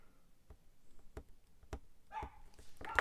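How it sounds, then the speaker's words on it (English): A neighbour's dog barks next door, a few short, faint, distant barks spaced irregularly over quiet room tone. "Oh, next door's dog barking."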